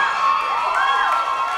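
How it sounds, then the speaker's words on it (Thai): A studio audience at a dance competition show cheers and claps, a bright sustained crowd roar with shouts rising over it, lasting about a second and a half. "ขอเสียงปรบมือ"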